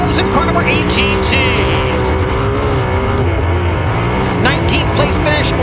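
Race car number 18T running the track at Arrowhead Speedway, a World of Outlaws event: loud engines roar and whine with rising and falling pitch as cars pass, while an announcer's voice talks over them.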